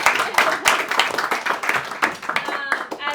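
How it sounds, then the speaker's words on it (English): Scattered hand clapping from attendees at a City Council NY-25 fundraiser for Shekar, uneven and moderately loud, mixed with people talking in the room. "Another big round of applause for Shekar."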